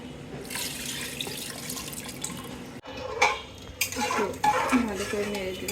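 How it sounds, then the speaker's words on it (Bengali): Pigeon meat being stirred in a pot before pressure cooking, with scraping and clinking against metal, wet sloshing, and a brief pause before louder stirring clatter resumes; close and continuous, with no talking. "ভালো করে নেড়ে দিলাম"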